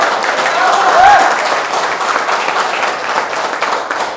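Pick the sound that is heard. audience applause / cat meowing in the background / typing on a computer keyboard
audience applause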